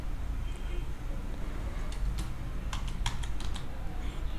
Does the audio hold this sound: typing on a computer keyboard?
yes